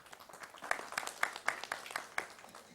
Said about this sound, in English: Can we please welcome them with a round of applause?